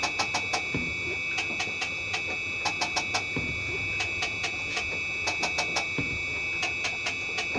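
A slotting attachment on a metal shaper cutting a keyway, with rapid, evenly paced clicking strokes in repeated groups over a constant machine whine and low rumble.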